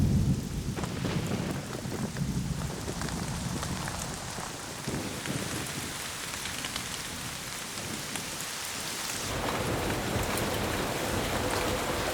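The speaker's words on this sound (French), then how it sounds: "Dernier orage avant la longue saison sèche." Thunderstorm with heavy rain in a Madagascar stone forest of eroded limestone pinnacles: steady close rain hiss with deep rolling thunder rumbles swelling and fading, and the downpour growing louder toward the end, no voices.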